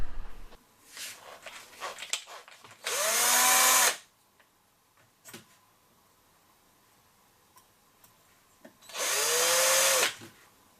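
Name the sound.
electric screwdriver drilling limescale from coffee machine with 1.5 mm bit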